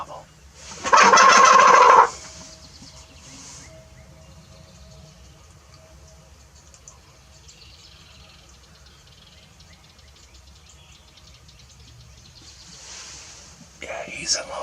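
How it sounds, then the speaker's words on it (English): A wild turkey gobbler lets out one loud, close gobble lasting about a second near the start, followed by long near-quiet stretches and a brief rustle at the end. "I'd like to try to get him to gobble."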